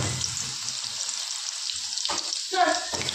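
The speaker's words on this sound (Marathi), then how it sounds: "तेल गरम झालेलं आहे, आले लसूण पेस्ट टाकून घेऊ" Ginger garlic paste hits hot oil in a wok for chicken biryani, a steady hissing sizzle throughout, with a brief splash and scraping stir near the end and faint voices in the background.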